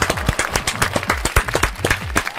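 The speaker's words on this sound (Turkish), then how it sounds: "Pascal alkış." Several people clap in uneven, fairly close bursts for a couple of seconds, with no voices over the clapping.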